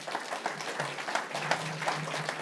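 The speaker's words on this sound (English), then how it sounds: "Never was a round of applause more guaranteed." Keynote conference audience gives a round of applause, a soft, moderately distant patter of many hands clapping steadily throughout, with no speech over it.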